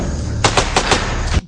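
Gunfire in an action film: a quick burst of four or five sharp, loud shots in rapid succession, ending abruptly, with no clear talk.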